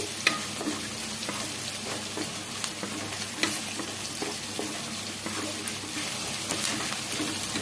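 Fenugreek seeds frying in hot oil for a fish curry, giving a constant close sizzle with scattered crackles and light stirring clicks throughout.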